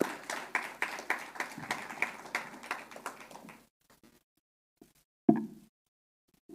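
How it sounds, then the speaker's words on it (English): An audience at a speech applauds with scattered, fairly sparse claps for about three and a half seconds, then quiet with a single thump. "Join me in applauding them."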